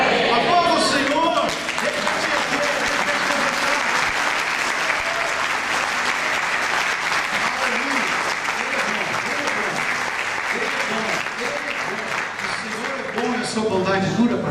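A church congregation at a Sunday evening service applauds loudly, a dense, sustained roar of clapping that fills the room for over ten seconds, with voices faintly mixed in near the start and end.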